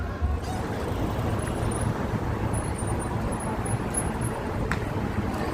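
Road traffic in Dubai, a continuous broad wash of passing cars and engine rumble heard from nearby at moderate level, steady with no distinct events standing out.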